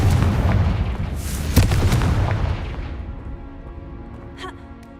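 A Confringo blasting spell in the Hogwarts Legacy video game sets off a loud booming explosion up front, its rumble decaying over several seconds into a fading tail with faint chimes near the end.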